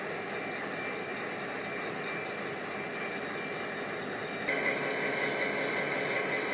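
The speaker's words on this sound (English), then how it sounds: "Locomotive number 2506 is bursting a lot of smoke when the B99 Autorack local train arrived in Pomona" A B99 autorack local freight train led by a smoky locomotive rolls through Pomona, Massachusetts, a steady low rumble of cars passing nearby that grows louder partway through, with faint squeals on top.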